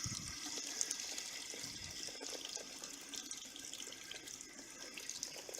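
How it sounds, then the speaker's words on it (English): Water hisses out through the pressure release valve of a 2005 Keystone Retreat RV's plumbing in a steady, continuous spray, faint and even throughout, with no talking. "you want to use your pressure release valve to let off the pressure"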